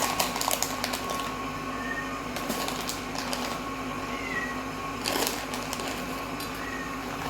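An impatient cat meows in a home kitchen where croissants are being made, giving a few faint, spaced meows over a steady mechanical hum and clatter.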